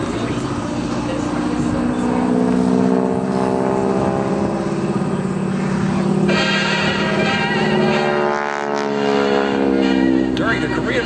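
A T-6 propeller airplane flies past at a 2014 airshow, its loud droning engine holding steady with slowly sliding pitch, while someone talks over it throughout.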